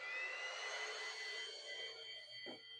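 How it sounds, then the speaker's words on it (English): A pink wireless vacuum cleaner runs with a steady, high-pitched whirring whine as it cleans a room, holding a constant tone with a brief low bump near the end. "So, anyways, so let's vacuum up the room."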